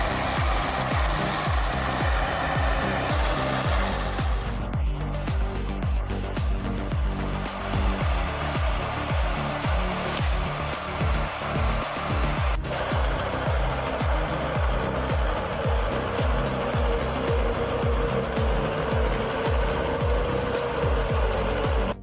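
Valmet 840.3 forestry machine stuck in deep ruts, its diesel engine running loud and steady with a continuous low throbbing drone and a rough, labouring texture throughout.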